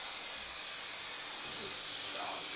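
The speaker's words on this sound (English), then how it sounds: "Shake it up real good, spray it on pretty much everywhere, and then it kind of gets tacky." 3M 90 spray adhesive aerosol spraying inside a box truck during an insulation build, a continuous close, bright hiss held steadily for nearly three seconds.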